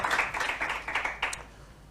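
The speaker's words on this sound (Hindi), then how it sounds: "नाज़दार तालियाँ होनी चाहिए, बहुत ज़्यादा क्लैपिंग मेरे बच्चों के लिए" Audience applause for school students competing in a televised quiz show, a short burst of clapping from a group that swells and fades over a couple of seconds.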